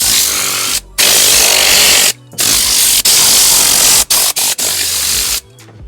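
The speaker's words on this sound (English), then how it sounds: "I'll grab my Tornador and push all this out" Tornador air blowing gun pushing cleaning foam out of a car interior, a loud, steady hiss of compressed air in several bursts, cutting off briefly between blasts.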